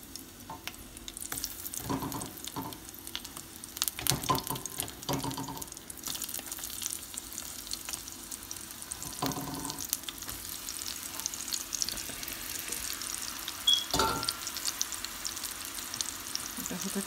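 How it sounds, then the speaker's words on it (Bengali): Eggplant fries in a small amount of oil, a soft steady sizzle running throughout with occasional louder clatters from stirring or handling, and no voices. "আমি একদম অল্প তেলে এটা ফ্রাই করব।"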